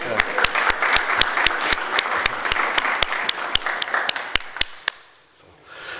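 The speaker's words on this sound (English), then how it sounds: "So, ask all of you to give a big round of applause." Audience applause for a birthday at an International Day of Sport for Development and Peace event, a room of people clapping steadily with sharp individual claps standing out, fading away near the end.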